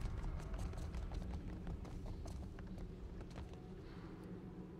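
In the Pillars of Eternity II: Deadfire game, a pig hops after the player, giving a steady run of soft, quick patter like light hoofbeats over a dense, constant background wash.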